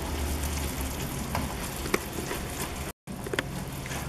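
Homemade sugar syrup cooking in a pan while being stirred, a steady close sizzle and bubbling hiss with occasional clicks from the spoon, plus a brief cut to silence near the end.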